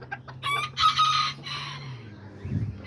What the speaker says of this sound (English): You see my little rooster right there, my little white silky, and my little brown silky.